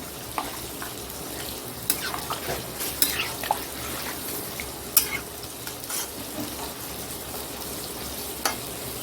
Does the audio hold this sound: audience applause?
no